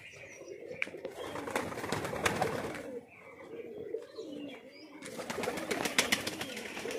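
Fancy pigeons in a loft coo and call through the clip, with bursts of brighter chirping and wing or rustling activity nearby and some faint background voices.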